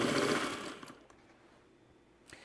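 Sewing machine stitching a quilt, a rapid mechanical whir for just under a second that stops abruptly, followed by quiet with a few faint clicks.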